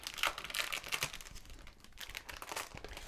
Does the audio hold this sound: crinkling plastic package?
yes